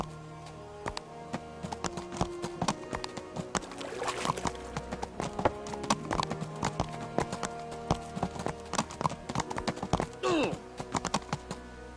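Rapid hoof clip-clops of a galloping horse in the video game Kingdom Come: Deliverance, close and rhythmic, with a brief whinny near the end and scattered clicks.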